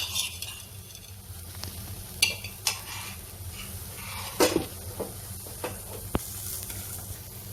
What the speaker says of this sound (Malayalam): തേങ്ങ ചെറിയ തീയിൽ വെച്ചിട്ട് വേണം ഇളക്കിയെടുക്കാൻ